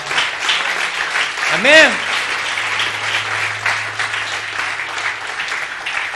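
A church congregation at a conference applauds, with sustained dense clapping filling the room while a single voice calls out briefly over it.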